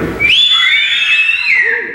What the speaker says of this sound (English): I want you to just whistle.